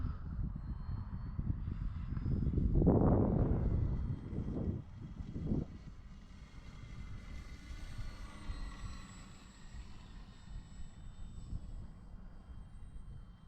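A small RC E-flite Valiant model airplane engine drones overhead in knife-edge flight, swelling loud as it passes close, then fading into a steady distant whine.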